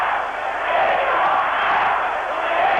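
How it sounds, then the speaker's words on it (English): A large rugby league crowd at Lang Park for a 1982 New Zealand versus Australia match, chanting as one steady, broad roar that stays loud throughout. "And the crowd now chanting."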